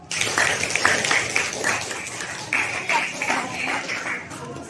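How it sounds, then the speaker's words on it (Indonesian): A group in a teacher-training classroom session claps together in short rhythmic bursts, a patterned clapping routine with brief pauses between rounds, fairly close and filling the room. "Tepuk tangan untuk kita semua."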